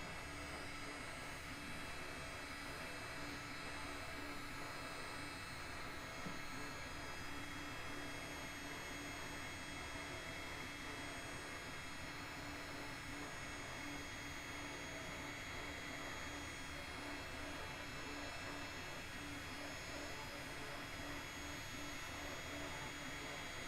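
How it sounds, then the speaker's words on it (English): A heat gun blowing hot air to shrink heat shrink tubing on wiring for an Acura MDX radio, a steady loud whooshing fan roar running unbroken throughout, with no talk. "we're going to take the heat gun, we're going to heat the heat shrink to shrink it down"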